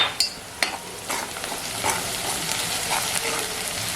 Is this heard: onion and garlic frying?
yes